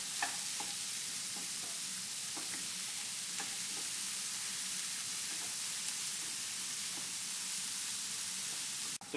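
Peas and carrots stir-frying in a hot pan for Vietnamese fried rice: a steady, even sizzle runs throughout, broken by scattered light clicks and scrapes from stirring. No one speaks.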